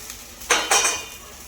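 Puffed rice soaked and tossed in oil in a pan for Latur-style sushila, giving two short bursts of scraping, clinking stirring with a faint sizzle, close and otherwise quiet.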